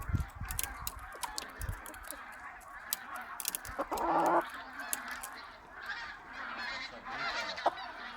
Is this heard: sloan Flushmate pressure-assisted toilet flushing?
no